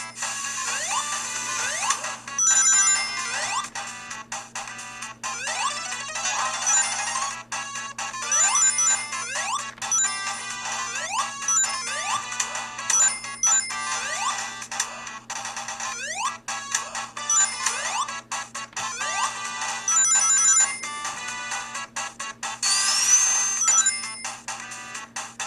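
Chiptune music and effects from the Sega Master System game Sonic play on an Anbernic RG353-series handheld emulator: bright beeping melodies, arpeggios and quick jingles running continuously at moderate volume.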